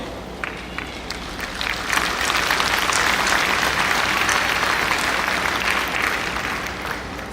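Audience at a UCC commencement service in 2018 applauding the graduates, a sustained roomful of clapping that swells and holds loudly, then eases slightly near the end.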